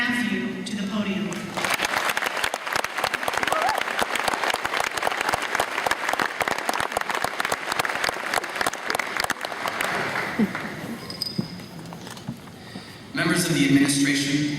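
Sustained applause from an audience at a high school commencement ceremony, steady dense clapping lasting over ten seconds before fading, with a brief burst of crowd noise near the end.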